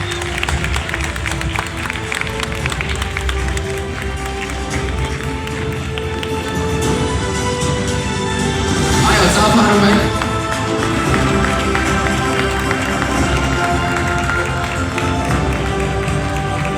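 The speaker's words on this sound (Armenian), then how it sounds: "ձեր բարձր ծափահարությունները" Audience at a stage event applauding as the head of the Union of Armenians of the World is invited up, a dense sustained clapping that swells louder midway, with a voice over it.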